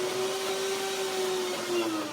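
A blender whirs steadily while blending cashew cream for walnut and cashew date pralinés, a continuous motor drone with a faint high whine that dips slightly in pitch near the end, with no talk.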